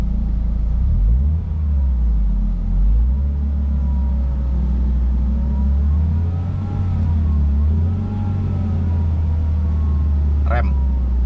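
A manual car's engine hums at a steady raised idle of 2000 rpm, a constant low rumble with people talking over it.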